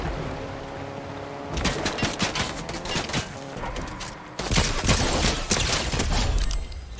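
Rapid bursts of single-shot rifle gunfire in Fortnite crackle in quick succession, loud and sharp, with a brief pause before a second, heavier volley.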